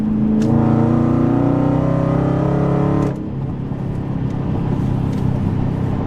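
A Dodge Challenger engine revs loud and close, a strong rising harmonic roar held for about three seconds before dropping into a lower, rougher rumble.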